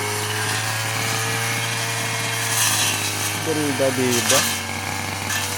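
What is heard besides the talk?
gas-powered grass cutter cutting grass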